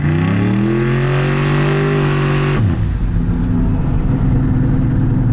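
A turbocharged LS-powered street truck accelerating hard on a drive, a loud, close engine note climbing steadily in pitch before a sudden drop as it shifts, then pulling again with a rough, throaty drone.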